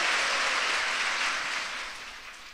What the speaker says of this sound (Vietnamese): Hãy vỗ tay ngợi khen Chúa về ân điển của Ngài dành cho chúng ta.